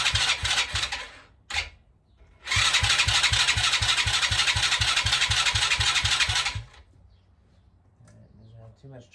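A four-wheeler ATV left sitting all winter cranks hard with a fast, rhythmic starter chug, a short burst, a pause, then a long steady cranking run that never catches before stopping, followed by quieter low rumble.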